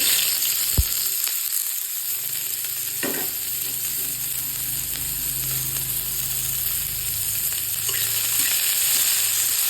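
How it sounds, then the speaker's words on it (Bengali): Chopped vegetables fry in a little palm oil in a hot pan for pasta, a constant close sizzle broken by scraping stirs and occasional utensil knocks. "তারপরে আমি এগুলোকে একটু ভেজে নেবো"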